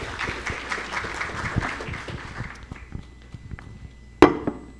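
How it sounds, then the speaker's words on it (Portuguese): A crowd claps for a few seconds at a national meeting of state health surveillance coordinators, the applause thinning and fading out, ending with a sharp clunk. "Uma salva de palmas."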